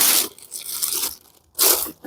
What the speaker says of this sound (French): On déballe le plastique.